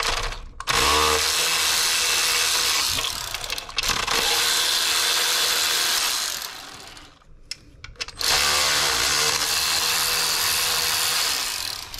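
Power tool backing out 10mm bolts under a car during LT4 thermostat housing work, sounding as three loud sustained whirring runs separated by brief pauses, close and alone.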